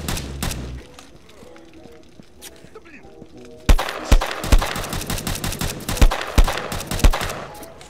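Gunfire in the online survival shooter Will to Live Online: after a quieter stretch, a loud burst of rapid shots erupts and continues in repeated sharp cracks and thumps for several seconds.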